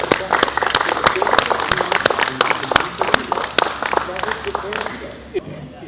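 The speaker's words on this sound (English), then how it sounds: "he deserves a round of applause for putting all this together as well" A crowd gives a loud round of applause at a tribute event honoring an American Desert Storm veteran. The clapping is close and continuous, with crisp individual claps throughout, and fades toward the end.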